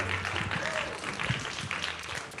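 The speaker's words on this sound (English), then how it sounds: "Let's give third grade a big round of applause." Audience applause for third graders at a school Halloween parade, steady scattered clapping for a couple of seconds with faint crowd voices mixed in.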